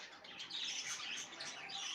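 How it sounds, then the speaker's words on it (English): Pet budgies, small Australian parakeets, squawk and chirp in a busy, overlapping chorus close by, loud and continuous throughout with no talking. "And we have a great setup of Australian parrots, budgies."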